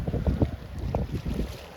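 Wind buffets the microphone on a sailboat at sea off Greece while another boat passes with its engine running, a low rumbling drone under steady gusts.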